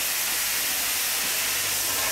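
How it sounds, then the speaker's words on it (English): Steam hisses continuously through an opened bypass valve in a salmon cannery, a loud, close, even rush with no pauses and no talk. "you went by the controller and you're putting solid steam in"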